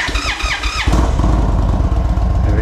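An Indian Chief Dark Horse motorcycle engine starts: a brief whirring starter crank, then the big engine catches and settles into a loud, throbbing, steady idle close by.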